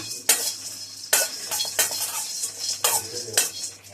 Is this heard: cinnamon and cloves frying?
yes